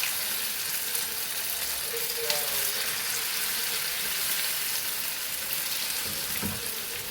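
Chicken pieces dropped together into hot oil, frying with a steady, even sizzle that continues unbroken throughout.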